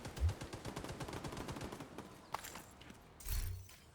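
Video-game gunfire comes as a rapid burst of automatic shots, followed by a few isolated reports and a heavier thump, moderately distant and fairly quiet.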